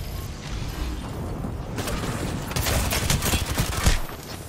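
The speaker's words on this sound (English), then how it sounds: "Who's shooting me?" Gunfire in the Apex Legends video game, a dense burst of rapid shots and impacts that builds louder in the second half, close and sharp, with no speech.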